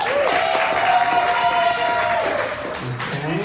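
A studio audience gives loud clapping and cheering that holds steady for a few seconds, then tapers off as a voice begins to speak.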